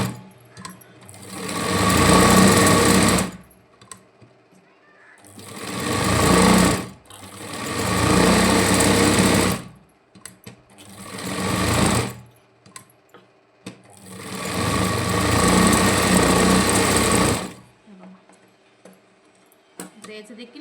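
A sewing machine stitches around the edges of leftover fabric on a boat-neck princess-cut front piece, running in five loud close bursts of a few seconds each, separated by short pauses.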